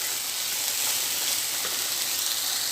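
Bitter gourd (karela) frying in an open, uncovered pan, giving a steady, even sizzle and hiss that holds close and constant throughout with no talking.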